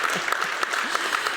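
Brief audience clapping after a panel on social housing in New England, a short burst of many hands applauding steadily at moderate level, with no talk over it.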